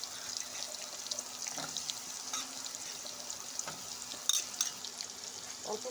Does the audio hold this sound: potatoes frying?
yes